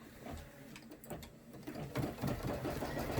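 A home embroidery machine stitches a placement outline for a Halloween party hat, giving a rapid, steady mechanical rattle that starts out soft and grows louder and busier toward the end.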